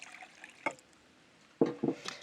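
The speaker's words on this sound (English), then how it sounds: "add water at room temperature" Room-temperature water is poured into a container of spices, a few brief, close splashes and gurgles separated by short pauses, fairly quiet overall.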